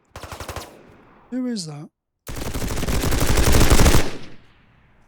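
Gunfire in the video game Reaper Actual: a short burst of rapid shots, then a longer loud sustained automatic volley that fades out, with a brief spoken question between the bursts.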